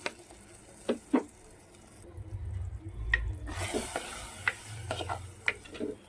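Fried okra tipped into boiling tamarind and stirred, with a few sharp clicks of the spoon against the pot, bubbling and a low burst of liquid noise midway, close and without talk.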